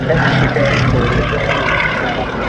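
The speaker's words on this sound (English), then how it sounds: "this amazing torpedo aircraft with a huge, great Bristol Pegasus 9-cylinder radial engine on the front, giving it about 750 horsepower" A Fairey Swordfish torpedo biplane with a Bristol Pegasus nine-cylinder radial engine of about 750 horsepower roars loud and close at an airshow, a dense rumbling propeller drone with no break.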